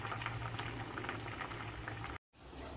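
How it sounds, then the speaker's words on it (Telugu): A pot of cucumber mutton curry boils on the stove, a continuous bubbling hiss that runs steadily before a brief cut, then resumes more faintly. "చూడండి, కూర ఎలా ఉడుకుతుందో చూపిస్తాను నేను"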